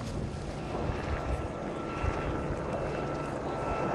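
A vertical takeoff jet aircraft hovers at the Oshkosh airshow, its engine giving a loud, steady roar with broad rushing noise and wind buffeting throughout, no clear breaks or changes.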